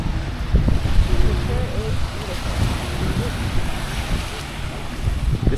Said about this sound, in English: Apologies in advance for the wind if there is any.